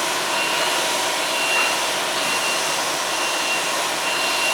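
A Washer Compactor WCP-350 motor runs with a steady broadband whir and a faint high tonal whine, constant and fairly loud throughout, with no voices.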